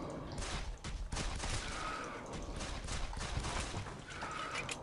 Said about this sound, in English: I assume that's a gun or something